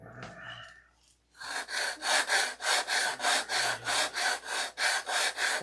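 Hand sanding on a Sig Magnum gives a rhythmic, close scratching rasp, about a dozen even back-and-forth strokes after a soft opening rustle.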